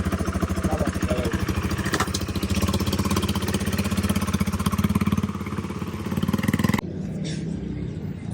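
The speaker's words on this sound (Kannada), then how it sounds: "ಸೊ ಹೋಯ್ತು ನಮ್ಮ ಗಾಡಿ ಫೈನಲಿ." A KTM Adventure 390 motorcycle engine runs close by with a loud, steady chugging idle and throttle blips, then cuts down sharply near the end, as if the bike pulls away.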